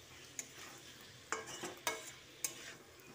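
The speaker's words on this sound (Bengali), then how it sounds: "হলুদ গুঁড়োটা দিয়েও মিশিয়ে নিচ্ছি" Vegetables cooking in a pan for a vegetable sabji, stirred after turmeric powder goes in, with a few quiet scrapes of a spoon against the pan over a faint background sizzle, close and without talk.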